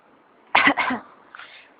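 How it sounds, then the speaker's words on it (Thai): A throat-clearing effect voiced for a flower in an audiobook reading: two close rasping hacks followed by a softer short throat sound, near and alone. "ดอกไม้กระแอมไอ แต่ไม่ใช่เพราะเจ้าหล่อนเป็นหวัดหรอก"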